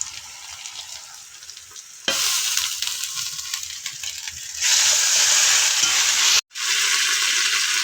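Ginger and garlic frying in hot oil, a steady loud sizzle that jumps louder twice as more goes into the pan, with one brief silent gap near the end.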